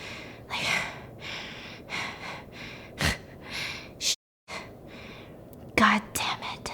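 A voice imitates aggressive breathing with repeated harsh, whispery huffs and sharp gasps in an uneven rhythm, close and breathy, broken by a brief silence before a few final snorting breaths.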